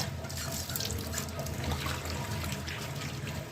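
Prawns being washed under a running kitchen tap, a steady soft stream of water splashing continuously into a sink, fairly quiet and alone.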